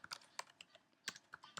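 Quick, uneven keystrokes on a computer keyboard as a comma-separated list of words is typed in, close and fairly quiet with short pauses between bursts of clicks, no voices.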